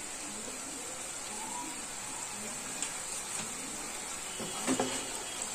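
Spices with coriander powder and red chilli frying for aloo matar, a steady low hiss of sizzling oil with a few light stirring taps toward the end.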